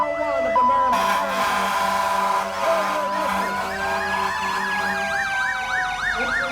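A Merrimack Fire Department engine siren wails in rising and falling sweeps as the truck enters the town square during a Santa parade, loud and close, with a voice talking over it.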